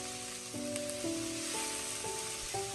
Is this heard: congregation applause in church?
no